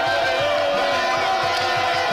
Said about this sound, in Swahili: na hizo ni shangwe kabisa za mashabiki wa Miono United